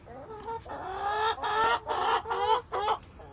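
Nearby seven-and-a-half-month-old chickens cluck in a quick series of short, loud, squawky calls, with brief pauses between bursts.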